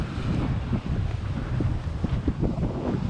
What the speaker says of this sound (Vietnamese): Sóng nó tạt mạnh quá, nước dâng lên luôn.